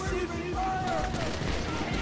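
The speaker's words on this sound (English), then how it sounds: "We're receiving fire!" Gunfire during a GTA 5 diamond heist shootout, dense crackling shots blending with voices shouting in the background over a busy, continuous game mix.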